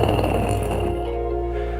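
A voice imitates the sound of fur with a short, raspy, breathy buzzing rumble, close and steady for under two seconds.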